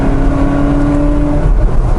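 A Ferrari 360 engine is heard close and loud, a sustained rumbling drone with steady tonal whine and a slight dip in level near the end, without any voices over it.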